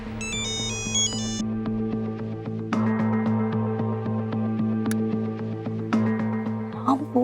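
A mobile phone ringtone plays a bright, repeating melody late at night during a tense search for a missing girl, sounding loud and steady across the whole stretch with brief musical figures and room sounds beneath it.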